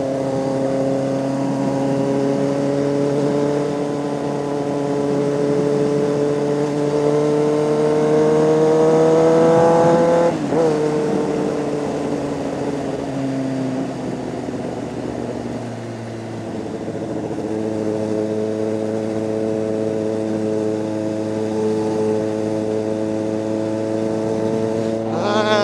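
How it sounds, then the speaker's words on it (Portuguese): A modified motorcycle revs loudly at night in a city neighborhood, its engine note climbing steadily for ten seconds, dropping sharply, then settling into a strong sustained drone, close and continuous with no talk. "A moto ficou louca, hein? Ficou xoxa embaixo, mas ficou top. O barulho compensa."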